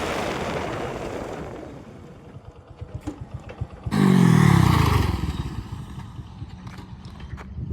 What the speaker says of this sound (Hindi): V15 वहाँ से चल पड़ी है, आ रही है बाइक, देखते हैं क्या परफॉर्मेंस रहती है ब्रेकिंग की उसकी